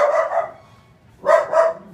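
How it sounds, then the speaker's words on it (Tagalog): A dog barks twice in two quick bursts, then barks twice again after a pause, loud and close. "Ang ingay ng aso."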